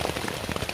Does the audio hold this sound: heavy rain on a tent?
yes